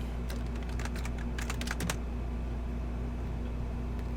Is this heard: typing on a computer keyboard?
yes